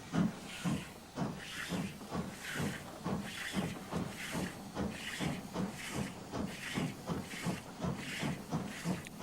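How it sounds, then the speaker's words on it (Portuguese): Rhythmic bursts of hissing steam pulse at a steady beat from an old wood-burning steam locomotive chuffing, moderately loud and without voices. "Essas velhas locomotivas queimam madeira para gerar vapor."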